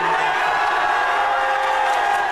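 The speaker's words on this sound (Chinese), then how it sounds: "支持苏格兰留在英国的票数过半，统派阵营爆出如雷欢呼" A large crowd of unionist supporters cheers as the Scottish independence referendum result shows most votes for staying in the UK, a dense, continuous roar of shouts and whoops.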